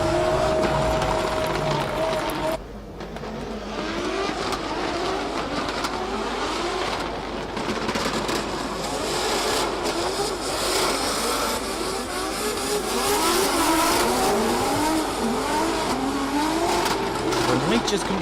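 Drift cars in the finals of the Oman International Drift Championship roar and rev at high pitch with wavering engine notes and tire squeal, loud and continuous, under a commentator's voice.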